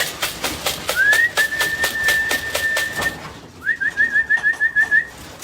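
Racing pigeons returning to an OLR loft from a Calgary race, with a long steady whistle followed by a rapid string of chirping whistles over repeated flapping or fluttering pulses nearby.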